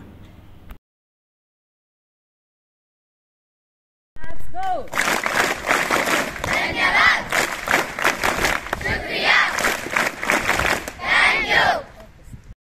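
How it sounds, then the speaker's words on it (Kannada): After a few seconds of silence, a loud burst of rhythmic clapping mixed with shouting children breaks out at a talent search exam event at Karnataka Public School in Somayajalahalli, Srinivaspur taluk, then fades out. "ಈ ಚಪ್ಪಾಳೆ ಎಲ್ಲಿ ಅಂತಂದ್ರೆ ಕರ್ನಾಟಕ ಪಬ್ಲಿಕ್ ಶಾಲೆ ಸೋಮೇಲ್ಪಲ್ಲಿ ಒಂದು ಕಾರ್ಯಕ್ರಮ"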